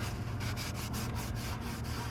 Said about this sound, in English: I'm going over it with some brake cleaner just so it's clean